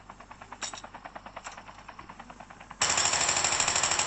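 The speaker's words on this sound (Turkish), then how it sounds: "Silah seslerini duyduğunuz zaman daha çok net anlaşılır." Gunfire in Call of Duty Mobile: quick repeated shots crackle at first, then a loud sustained burst of automatic fire takes over for the last second or so.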